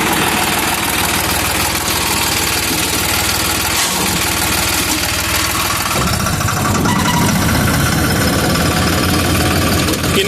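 A New Holland special edition straw-making machine's engine runs loud and close, a continuous rough rumble with knocking vibration that shifts in tone partway through as the revs change.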